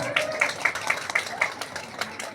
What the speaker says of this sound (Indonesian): tepuk tangan ka Bunda